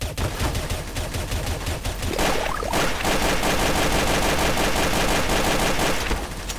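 Dense, loud gunfire from Counter-Strike: Source, with rapid continuous bursts and overlapping shots running throughout and no pause.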